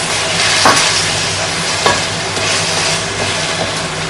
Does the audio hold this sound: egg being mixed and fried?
yes